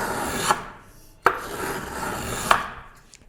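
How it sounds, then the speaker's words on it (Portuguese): Three distinct rasping strokes come from a small hand plane taking shavings off the wooden bass bar of a violin, close and crisp, with the cut wood rustling softly between passes. "A madeira saindo da planinha."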